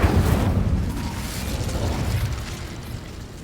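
Incendio fire spell cast in Hogwarts Legacy, a loud whooshing burst of flame with low rumbling crackle that starts strong and gradually fades, heard alone.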